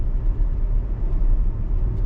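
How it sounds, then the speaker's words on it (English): A car accelerates up to speed on a road near Marble Falls, with a steady low engine and road rumble heard from inside the cabin. The sound stays even and moderately loud, and nobody speaks. "Foot on the accelerator, gets the car up to speed."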